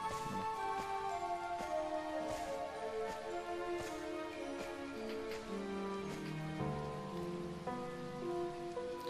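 Steady rain falls in the video game Sword Art Online: Hollow Realization, a continuous patter of drops mixed with soft game music and no voices.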